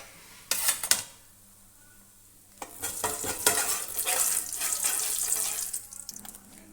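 Ground cumin hits hot oil in a pan and sizzles continuously after a sharp initial crackle, close and fairly loud, with no talking.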